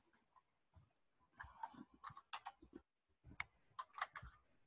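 Keys on a computer keyboard tapped in irregular bursts of clicks, a short run, a pause, then another flurry, close by and moderately quiet.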